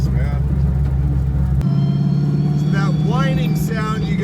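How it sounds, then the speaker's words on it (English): A car with a sequential transmission and straight-cut gears, its engine rumbling heavily and then giving way to a thinner tonal gear whine, close and loud, with a voice talking over it. "It's actually the straight cut gears of that sequential transmission, which makes that great whine"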